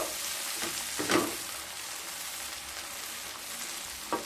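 Vegetables with capsicum and spices stir-fried in a pan for sago pulao, a steady close sizzle with a few louder scraping stirs near the start and at the end.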